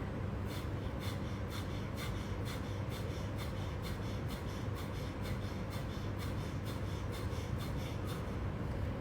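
Rapid, forceful nasal exhalations of a yoga breathing exercise pulse in a quick steady rhythm, about two per second, close and continuous over background hiss.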